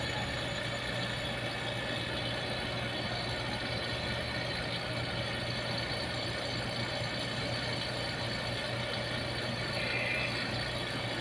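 Vacuum pump running steadily while evacuating the refrigerant lines of an LG dual inverter 1.5 HP split-type air conditioner, a continuous mechanical drone with a low hum, close and alone throughout.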